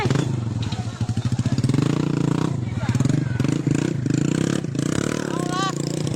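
A motorcycle engine runs steadily nearby during a house fire at a roadside restaurant, its pulsing idle and revs continuous throughout, with faint clatter and voices mixed in.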